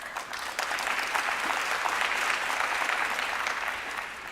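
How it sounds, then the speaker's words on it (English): An audience at a university graduation ceremony claps steadily in a dense round of applause, fairly distant and even throughout, with no speech over it. "Now that you're seated, please give yourself a round of applause."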